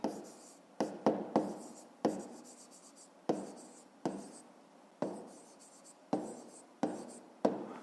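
Pen writing on paper while a fifth-grade math solution is worked out, about a dozen short scratching strokes with crisp onsets in an uneven rhythm, close and without talk.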